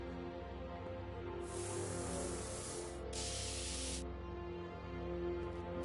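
Two bursts of hissing aerosol spray from a spray paint can in a Back to the Future video game, the first about a second and a half long, the second shorter, over a quiet musical background.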